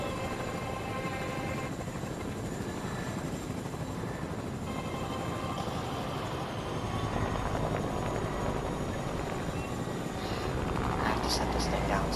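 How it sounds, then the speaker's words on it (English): Helicopter in a video game, its dense rotor and engine drone steady and loud throughout, building slightly toward the end, with a voice talking over it. "Hold the chopper."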